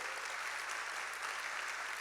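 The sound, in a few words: church congregation applause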